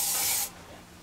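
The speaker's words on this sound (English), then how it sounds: "spray some carbon choke or throttle body cleaner" A single short hissing burst of throttle body cleaner sprayed onto the engine of a junkyard bullnose Ford lasts about half a second and then cuts off to quiet.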